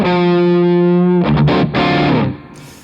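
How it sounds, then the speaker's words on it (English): Electric guitar through a Dane MK2 overdrive pedal with its own boost engaged, a loud sustained distorted chord ringing out, then several choppy strummed hits and a final ringing chord fading, with no talking. "the Dane with its own boost sounds like this"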